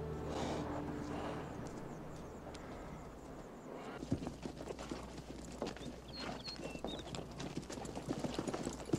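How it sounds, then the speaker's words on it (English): Horse hooves clip-clop on a hard surface in a steady walking rhythm, moderately close, with crowd murmur and voices in the background. "Oh, they're bringing the horses"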